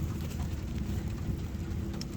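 Steady rain pours down outdoors in South Australia ahead of a mini cyclone, a dense, even hiss with a low rumbling wash and no voices.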